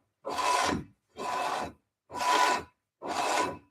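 A rusty cast iron brake rotor off a Nissan Altima is spun against a pry bar, producing four separate raspy scraping passes, each about a second long with short pauses between, close and fairly loud with no talk.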